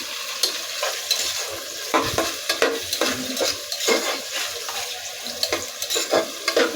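Chopped onions frying in oil for a beef and raw jackfruit curry, a steady hiss and sizzle with repeated scraping strokes of a spatula stirring through the pan, close and continuous without any talk.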